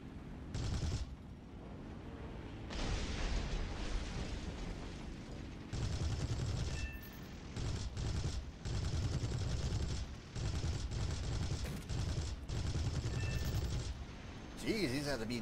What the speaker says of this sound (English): Jeez, these have to be the best cannons in existence.